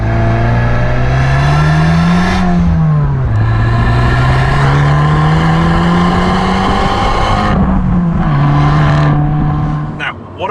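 An Abarth 695 Anniversario with the Record Monza exhaust revs close up, its loud engine note rising and falling in several swells with raspy exhaust texture, a burbling drop near the end.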